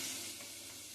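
Chopped amla pieces with turmeric sauté in a pan, giving a soft, steady sizzle that fades slightly after a brief louder start, heard close and without talk.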